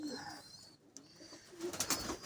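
Pigeons coo softly in a loft during bad weather, a few low throaty calls with a brief flutter near the end, faint and fairly distant.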